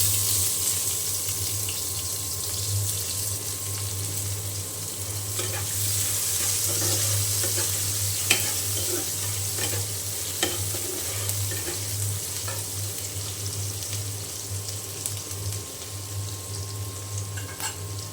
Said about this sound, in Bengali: এখন আমি এই তেলের মধ্যে দিয়ে দেব পেঁয়াজ কুচি।